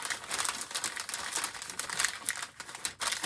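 A sheet of paper is folded close up for a craft project, with soft crinkling and rustling that comes in uneven bursts, faint and without talk.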